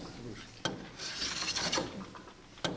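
A hand plane rasps along a piece of wood in a school workshop, one long shaving stroke between sharp knocks at the start and end, close and fairly loud with no talk.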